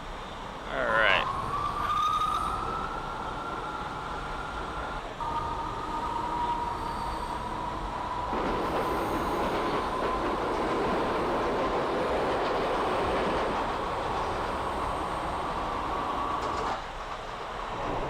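An NYCT R179 subway train runs in the OpenBVE train simulator, with a steady rumbling roll, a rising motor whine and a brief squeal near the start, continuous and close, with a voice talking over it.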